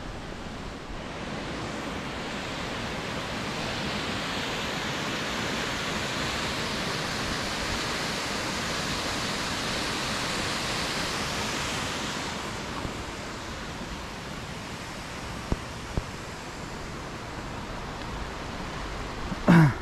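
Icy waterfall in the Tbilisi botanical garden, a steady broadband roar of falling water that stays constant and fairly close throughout, with a few faint knocks near the end and no talking.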